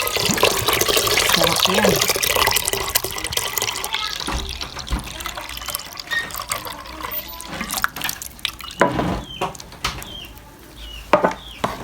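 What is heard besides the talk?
pouring coconut milk for maja blanca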